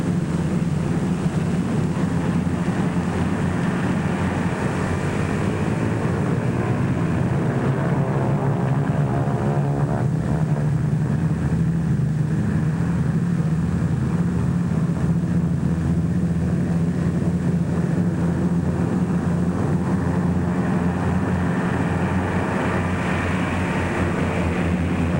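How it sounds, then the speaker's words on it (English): A score of US Liberator bombers warm up their propeller engines for takeoff from an airfield in North Africa, producing a steady, dense droning roar that holds at a constant level throughout with no talk. "More than a score of United States Liberators warm up for the takeoff from a field somewhere"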